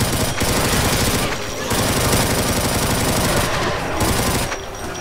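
Sustained, dense automatic gunfire from Doom Project Brutality, a loud rapid rattle of shots running almost nonstop, with two or three brief dips where the barrage thins before resuming.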